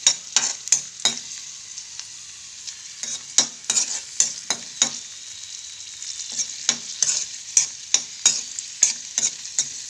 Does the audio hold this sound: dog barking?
no